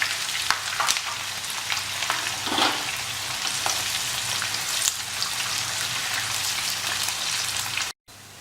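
Onions fry and brown in a pan with a dense, continuous sizzle and crackle, close and loud, broken by occasional stirring scrapes before a sudden cutoff near the end.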